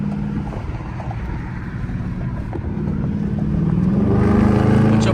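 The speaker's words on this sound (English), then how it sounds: "I got both of the windows down so y'all can hear the car." A Dodge Charger RT cruising on a highway in rush-hour traffic with both windows down, its steady engine drone and road rumble mixed with wind, building louder and rising in pitch toward the end as it accelerates.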